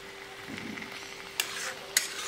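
Grated carrot halwa is stirred and sautéed in a pan as it dries out, a soft close scraping and light sizzle punctuated by two sharp utensil clicks against the pan, with no talk.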